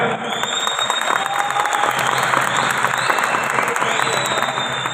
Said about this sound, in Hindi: तो एक दफा सारे भरपूर तरीके से जरा अपने लिए तालियां बजा के बताएं।